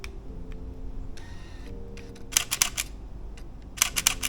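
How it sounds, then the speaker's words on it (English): A Canon EOS R8 fires its mechanical shutter in two quick bursts of sharp, close mechanical clicks, separated by a short pause, in a quiet room. "So that is the mechanical shutter."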